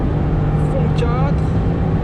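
A 2020 Toyota GR Yaris, 250 hp with four-wheel drive, pulls at full throttle in fourth gear near 7000 rpm and 180 km/h, a loud steady engine drone with road roar inside the cabin and someone talking over it.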